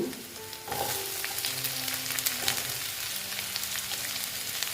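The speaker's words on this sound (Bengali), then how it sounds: "আলুটা দিয়ে আবার আমি ভেজে নেব ভালো মতন একটু ভেজে নেব আলুটা" Potatoes frying in a pan with onions for an egg dish, giving a steady, close sizzle that crackles a little louder partway through, with no talking.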